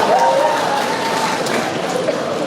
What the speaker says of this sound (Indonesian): Gak usah kalian tepuk tangan.